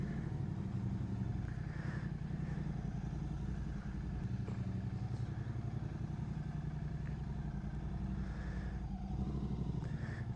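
A Royal Enfield GT 650 motorcycle engine idles and rumbles steadily at close range while the bike is being turned, with a continuous low throbbing note and faint mechanical clatter throughout.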